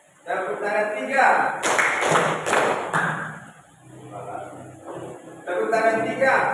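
A classroom of students claps together in a set pattern, a short burst of sharp, loud claps following a teacher's voice, with talking before and after.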